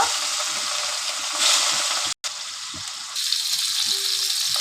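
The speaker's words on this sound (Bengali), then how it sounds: "তেল গরম হয়ে গেছে একে একটা মাছগুলো সব দিয়ে দিয়ে নিব" Rohu fish pieces frying in hot oil in a wok, giving a steady, close sizzling hiss that runs almost throughout, with one brief dropout near the middle.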